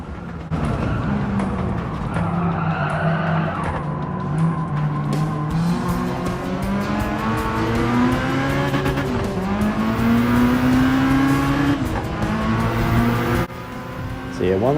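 Cars in the Gran Turismo 7 racing game drive on the road, a loud continuous engine drone rising and falling through gear changes with tire squeal, while a voice talks over it.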